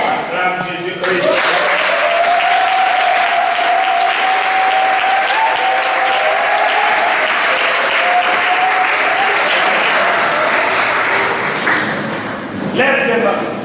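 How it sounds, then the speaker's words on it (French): A church congregation applauds loudly and steadily at a worship service, the dense clapping close and continuous for over ten seconds, with a voice singing or calling out over it before easing off at the end. "Acclame Jésus-Christ"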